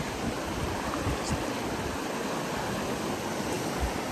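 Steady broadband rush of the Deschutes River flowing along a canyon hiking trail, continuous and fairly close, with no talk over it.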